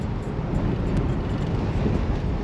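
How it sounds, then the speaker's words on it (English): Steady low rumble of a car engine with a failing rear seal, rattling continuously while driving on Scottish roads, loud and close with broadband road and wind noise, no voices. "Let's just listen to the rattle of my engine as it blows a rear seal."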